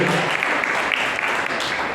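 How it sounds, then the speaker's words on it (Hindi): An audience at a Mahavir Janma Kalyanak Indra Sabha event in Udaipur claps for the children who performed. The applause is dense and steady and stays fairly loud for the whole stretch. "जोरदार तालियां बजाइए हमारे बच्चों के लिए"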